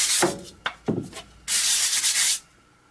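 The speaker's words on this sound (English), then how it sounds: "Then I like to do a final scrub with lacquer thinner just to ensure good paint adhesion." Rag scrubbing a taxidermy face with lacquer thinner before painting: a few short rubbing strokes, then a longer steady scrub, close and fairly loud with no talking.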